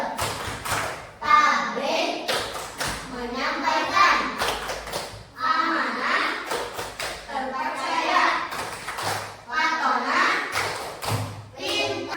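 Children in a classroom chant a rhythmic clapping verse about the obligatory qualities of a prophet, with sung voices and repeated hand claps and thumps keeping steady time throughout.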